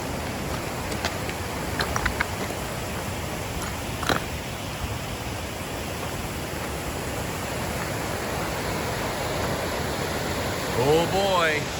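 A mountain stream along the Pacific Crest Trail rushes with a loud, steady roar of water that fills the whole clip, with a few faint knocks and rustles near the end.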